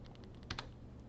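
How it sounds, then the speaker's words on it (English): A computer keyboard clicks under light typing, with a few faint, close keystrokes and one slightly firmer press of the C key near the middle, quiet over a low hum. "you can use the C button from the keyboard to close"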